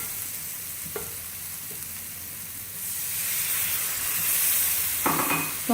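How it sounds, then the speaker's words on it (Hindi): A pan of milk and flour paste is stirred as it heats, giving a soft steady sizzle and hiss that swells a little, with a few light scrapes and clinks of the spoon. "तो हम हिलाते जाएंगे साथ"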